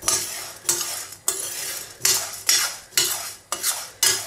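Spices for vegan chatni pudi dry-roast in a pan under continuous stirring: about nine brisk, evenly spaced scraping strokes, each a loud rasp that fades. There is no sizzle and no voice.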